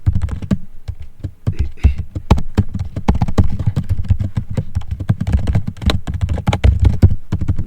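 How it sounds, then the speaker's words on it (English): Rapid typing on a keyboard, close and clear, a continuous irregular patter of key clicks with brief pauses and no talking. "I'm typing on the screen"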